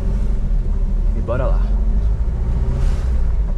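A 1974 Volkswagen Brasília's engine rumbles steadily as the car pulls away in first gear, a constant low drone under someone talking in Portuguese.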